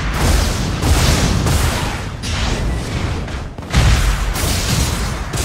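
Gunfire rattles in the mecha battle game Super Mecha Champions, dense bursts of booming shots running almost continuously at a loud level with a short dip midway.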